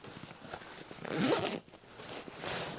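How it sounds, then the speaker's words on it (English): A zipper is drawn shut along the side pocket of a Denali Trek 65 backpack, one quick close rasping zip lasting about half a second. "And zip it up, and we've still got more room to use in that pocket."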